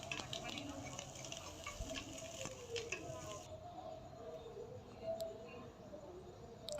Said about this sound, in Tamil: ஸோ அப்படியே ஃப்ரை பண்ணிக்கிட்டே இருக்கலாம் பொன் நிறமாக வரணும்